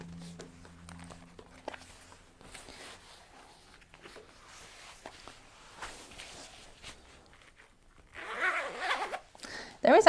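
A zipper on a leather over-the-knee stiletto boot is drawn near the end, a short, fairly close rasping run after several seconds of faint rustling and shuffling.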